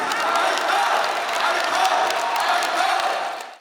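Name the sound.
concert audience applause and ovation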